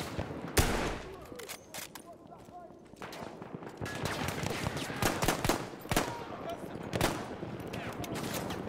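Gunfire in the Battlefield 1 video game: sharp, irregular shots and bursts at close range, spaced unevenly across the scene over a busy battle background.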